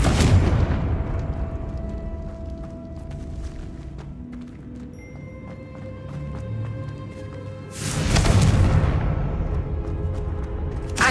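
Confringo spell blasts in Hogwarts Legacy: a loud fiery burst at the start fades into a rumbling battle bed, then a second loud blast near the end, with game music and effects running throughout.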